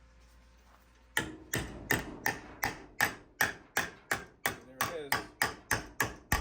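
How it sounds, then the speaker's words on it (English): A ball peen hammer bends steel fender sheet metal for a 1968-69 Oldsmobile Cutlass, striking in a steady series of about fifteen sharp, close, ringing metallic blows after a quiet start. "The ball peen. Don't leave home without it. See? Bent it right on that line."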